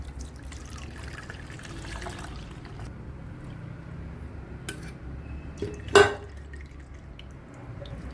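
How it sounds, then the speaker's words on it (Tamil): Homemade cotton seed milk being strained a second time in a kitchen, with soft dripping and trickling of liquid and faint clinks of utensils against a vessel, plus one sharper clatter midway, no talk. "ஏற்கனவே நம்ம ஃபில்ட்ரு பண்ணிட்டோம் ஒன் ஒன் டைம் இப்போ திரும்ப இன்னொரு டைம் பண்ணிக்கிடுவோம்"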